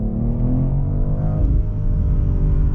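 A BMW X3 M Competition engine rumbles under load while driving, a deep, steady, loud growl with rising harmonic tones that suggest acceleration.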